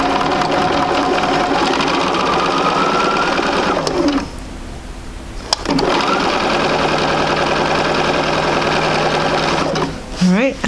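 A sewing machine stitching quilt pieces of orange and red fabric, a loud, fast continuous whir that pauses briefly mid-way, then runs on again close to the microphone.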